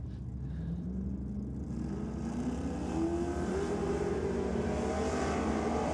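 Two drag racing cars launch together from the start line at Sydney Dragway. A loud, steady engine roar rises in pitch as they accelerate away, holding strong and continuous throughout.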